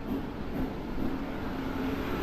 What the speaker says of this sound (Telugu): సో మన ట్రైన్ అయితే వచ్చేసింది.